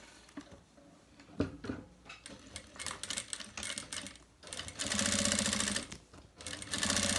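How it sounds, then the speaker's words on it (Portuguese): Sewing machine stitches a zipper onto a fabric pouch, starting with short stop-start bursts of needle clatter before running in longer, steady, louder stretches close by. "Se você preferir, pode passar mais uma costurinha aqui, tá bom? Vamos passar para ver como vai ficar."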